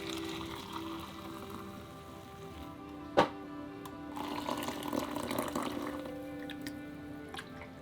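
Water fills a tank and drips aboard a boat, a soft running trickle with one sharp knock partway through and irregular drips and splashes toward the end.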